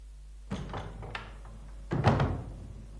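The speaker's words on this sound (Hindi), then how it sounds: "दरवाजा बंद कर दो" A door is shut indoors: a first thud with faint rattling, then a louder, heavier bang about a second and a half later, both close and with no talk over them.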